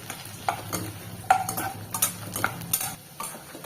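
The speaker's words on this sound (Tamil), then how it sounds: "மிளகாயையும் நல்லா ரெண்டு நிமிஷம் போல் நல்லா வதக்கி விட்டாச்சு" Dried red chillies sautéing in a pan for garlic chutney: soft, steady frying hiss with a few sharp scrapes and clinks of a spoon stirring against the metal, close and moderately quiet, with no talk.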